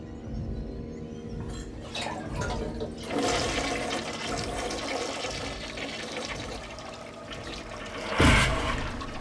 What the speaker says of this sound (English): The toilets used to flush on their own.